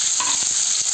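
Onion, garlic and tomato sizzle and fry in hot oil in a kadhai for rajma bhaji, a steady close crackling hiss with faint stirring touches throughout, no voices.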